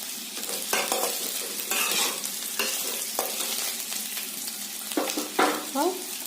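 Green chilies go into cauliflower frying in a pan, which gives a loud, steady sizzle. A spoon scrapes and clatters as the mix is stirred in short bursts, with no voice over it.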